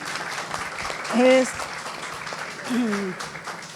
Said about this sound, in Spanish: solicito un aplauso para Sofía